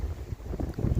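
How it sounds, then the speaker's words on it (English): Strong gusting wind buffets the microphone in Holyhead, a dense, rumbling low roar that surges and dips in quick pulses, loud and close, with no other sounds. "it's gusting harder than it's gusted all week."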